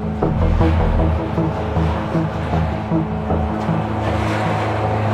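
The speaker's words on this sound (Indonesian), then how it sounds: "Jadi di sini adalah proses penggilingan tebu." Loud, steady mechanical drone of a sugarcane crushing mill at work in Kediri, Indonesia, a dense rumbling churn with repeating low thuds, heard close and alone without voices.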